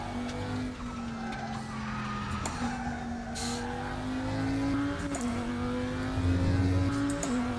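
Race car in the RaceRoom sim drifting through a corner, engine droning at a steady pitch with tires squealing and skidding throughout, revs dipping and rising as the slide carries on.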